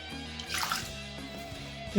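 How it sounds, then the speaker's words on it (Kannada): Water poured into a pot of thick South Indian vegetable sambar, a soft steady splashing that swells briefly near the middle, close by with no talking. "ಒಂದು ತಳ್ಳಿ ಇಟ್ಕೊಂಡು ನೀರು ಹಾಕೊತಾ ಇದ್ದೀನಿ ನೋಡಿ"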